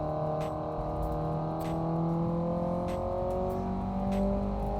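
Sustained car engine drone in the Assetto Corsa driving game, a Mitsubishi Starion or Conquest cruising slowly, with steady harmonic tones that rise gently as it revs, close and continuous with no talking.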